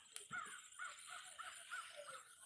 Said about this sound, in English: I hear a crow.